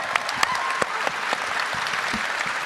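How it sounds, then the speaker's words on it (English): Audience applause for a Star Wars Zero Company game panel at Celebration Japan 2025, dense steady clapping from a large crowd in a hall, sustained throughout with a few sharper claps standing out. "Give them all a big round of applause,"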